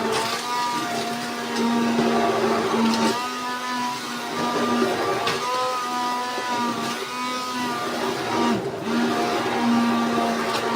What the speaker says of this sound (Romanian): le fac cu blenderul, le blenduiesc, când au început să fiarbă